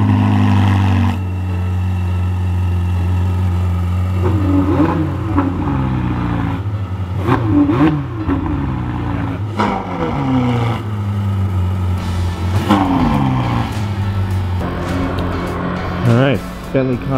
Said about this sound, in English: This was his first Lamborghini. I gotta get another cold start.